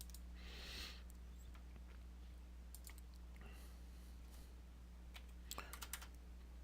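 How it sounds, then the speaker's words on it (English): Faint clicking keystrokes on a computer keyboard come in short scattered bursts, with a few sharper taps near the end, over a low steady hum in a quiet room. "in this example I'll just manually type it in"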